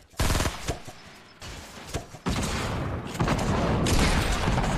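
Gunfire in the video game Fortnite, including shotgun blasts: loud, sharp bursts of shots in rapid clusters, then a sustained roar of continuous fire through the second half, with no speech.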